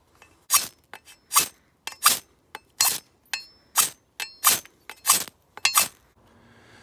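A fire steel scraped repeatedly against a notch cut into the spine of a Tramontina machete, about a dozen bright rasping strikes in a fairly even rhythm, close and loud with short pauses between.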